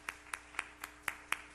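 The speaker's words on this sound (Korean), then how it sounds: "우리 자리에서 일어나시면 박수로 환영하고 축복하겠습니다." Clapping from a church youth congregation welcoming newcomers comes as about seven evenly spaced, crisp claps in a steady rhythm, moderately near, with no talk over it.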